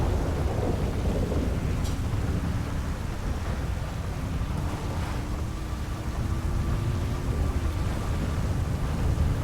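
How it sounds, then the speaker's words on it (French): Low, continuous rumbling roar of a video game thunderstorm with steady rain-like hiss, a faint engine drone rising and falling underneath. "L'orage cache tout."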